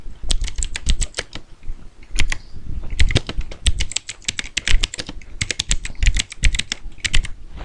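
Fingers type on a computer keyboard in bursts of rapid, crisp key clicks separated by short pauses, close and clear, with no voices.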